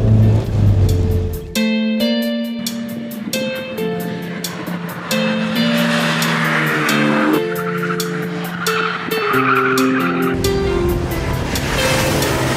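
Renault Megane R.S. with a 20-horsepower-boosted engine revving hard on the Estoril race track, loud rising and falling gear pulls with sharp upshifts and tire squeal, close and continuous.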